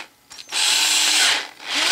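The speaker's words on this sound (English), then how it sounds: "Let me drill that hole now." Battery drill boring an eighth-inch pilot hole through styrene plastic, heard as a short start followed by a steady, close, high-pitched whirring grind lasting about a second before briefly easing off and resuming.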